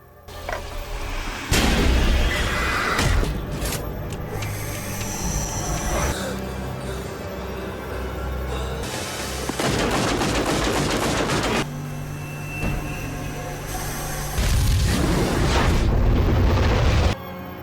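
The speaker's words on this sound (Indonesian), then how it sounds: "Paginya Josh ditemukan mati terbakar dengan asumsi kecelakaan akibat gas meledak" A gas explosion in a film hits with a sudden loud boom, then a sustained roaring blast with further heavy bursts and rumbling impacts, dense and forceful throughout with no talking.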